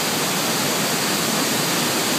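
A waterfall in Venezuela, one of two, pours in a loud, steady broadband rush of falling water, heard alone and close.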